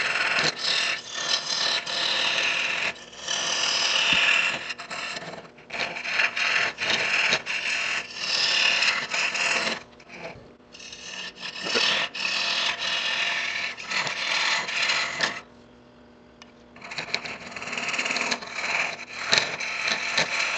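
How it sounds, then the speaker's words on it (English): A square-ended box scraper cuts into wood with close, rasping strokes in a steady rhythm, broken by a few short pauses, with no talk. "this is a box scraper, square-ended"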